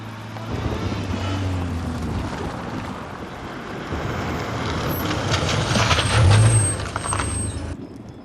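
A truck idles with a low, steady engine rumble, building slightly before a sharp hiss of air brakes near the end, with wind noise over the microphone and no speech.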